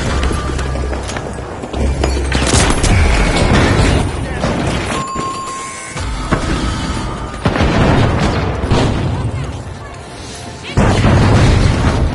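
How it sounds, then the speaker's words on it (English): Grenade blasts in the video game The Finals, several loud booming bursts spread across a busy stretch of combat noise, with a voice talking over parts of it. "Incoming grenade."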